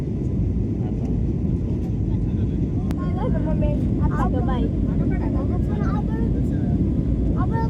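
A steady, loud roar of Air India Express airplane engines fills the cabin during climb, with people talking over the constant drone.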